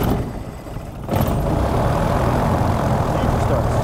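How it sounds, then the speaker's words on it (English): The engine of a 1979 Grumman Tiger AA5 light aircraft cranks and catches after about a second, settling into a steady, loud, close idle rumble. "Engine starts."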